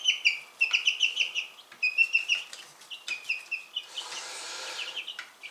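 Young chicks, black roosters and white hens chirping in a rapid, high stream of peeps and tweets, with brief wing flutters and a burst of rustling near the end.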